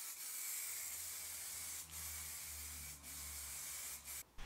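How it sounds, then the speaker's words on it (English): An aerosol can of acrylic spray varnish hisses steadily in a workshop, laying a final top coat on a refinished veneered cocktail cabinet, with a few short pauses between bursts and a low hum underneath. "For a final top coat, I used acrylic spray varnish"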